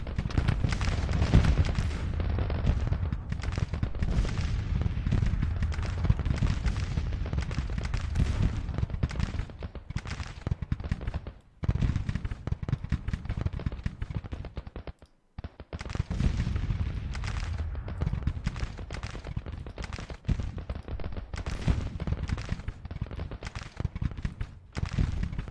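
Artillery guns firing in the Civil War strategy game Grand Tactician, a dense, continuous barrage of booming and crackling shots that rolls on for most of the span, with only brief gaps of quiet.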